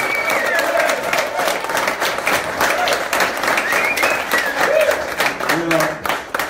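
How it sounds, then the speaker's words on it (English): A symposium audience gives a steady round of applause, with cheering voices mixed in throughout and talk rising near the end. "give me a round of applause."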